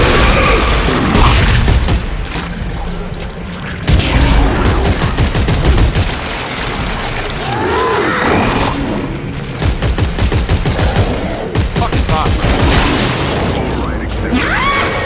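Rapid video-game gunfire in a light-shooting puzzle level, loud bursts of automatic shots with booms and mechanical clatter, repeated in several volleys across the span, with voices talking over parts of it.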